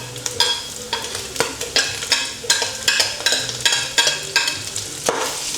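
Garlic sautes in a pan with a bright crackling sizzle and quick, rhythmic stirring strokes roughly twice a second, close and loud, with no voices.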